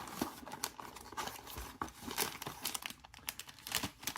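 A plastic bag from a SYMA drone accessory box crinkles and rustles close up as it is handled, in quiet, irregular bursts.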